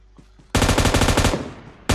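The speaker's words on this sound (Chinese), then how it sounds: "直接开枪看着没" Loud machine-gun fire in a shooting video game, starting after a quiet moment with a dense burst of rapid shots, a brief pause, then another burst at the end.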